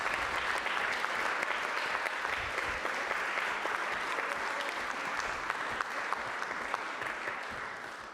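Warm, steady applause fills a council meeting chamber for young speakers, a dense patter of many hands held at an even moderate level throughout.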